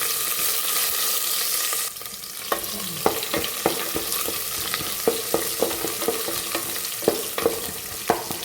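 Garlic and ginger sizzle steadily in a hot pan for chicken curry, with a loud continuous fry at first, then repeated sharp stirring clinks and scrapes at a steady rhythm over the crackle.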